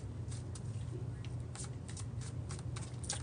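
A tarot card deck being shuffled, giving rapid papery flicks and soft snapping bursts over a steady low hum, close and continuous with no talking.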